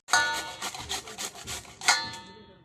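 Ripe mangoes are rubbed against a hand grater, giving a quick series of close, rasping scrapes in an uneven rhythm, about eight strokes in all.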